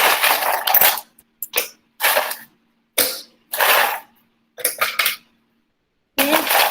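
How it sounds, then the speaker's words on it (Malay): Ice cubes drop into a blender jug, several sharp clattering bursts in quick succession with short silent gaps, close and fairly loud, ending with another rattle. "Masukkan ais."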